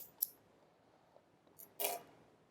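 Scissors snip through a yarn tail while sewing ears onto a cable-knit newborn bear bonnet, giving two crisp, close cuts separated by quiet.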